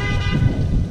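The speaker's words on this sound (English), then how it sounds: "Just waving to people who honk." A car horn sounds one sustained, loud honk throughout, layered over a low rumbling background.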